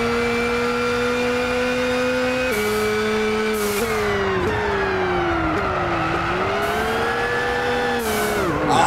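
A Gran Turismo 6 race car engine screams at full throttle, a loud continuous drone that rises and dips in pitch through gear changes and corners, with no talk.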